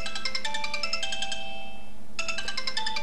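Phone ringtone for an incoming call on an Android handset, a bright repeating melodic pattern that stops for a moment partway through and then starts again, loud and close with no talking.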